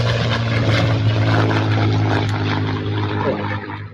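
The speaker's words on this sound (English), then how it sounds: "it's time for the Cherokee to make its first lift off from the runway" An RC model Cherokee airplane's propeller engine buzzes loudly and close as it takes off from the runway, a steady high drone that fades slightly toward the end.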